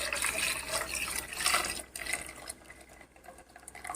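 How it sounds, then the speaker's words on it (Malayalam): Fresh first milk is poured into a pot, a soft uneven liquid splash and trickle up close, fading after a couple of seconds. "നല്ല ഫ്രഷ് പാൽ, ഒന്നാമത്തെ പാല്. അതും കൂടി ഇതിനകത്ത് ഒഴിച്ച് കൊടുക്കാം."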